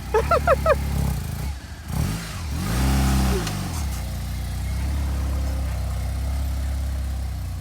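An overlanding vehicle drives up to a gate, its engine heard close and loud, revving and shifting pitch before settling into a steady running drone, with brief voices near the start.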